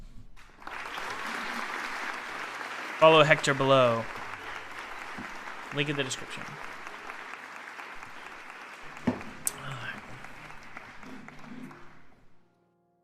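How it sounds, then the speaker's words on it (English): An audience applauds steadily for several seconds, with someone speaking over the clapping before it fades out. "can we get a round of applause"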